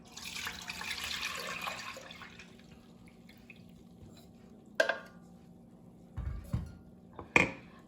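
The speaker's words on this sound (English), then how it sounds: "Over medium heat, I add 7 cups of milk." Seven cups of whole milk poured into a pot over medium heat, a soft watery hiss for about two seconds, followed by near silence with a few faint knocks.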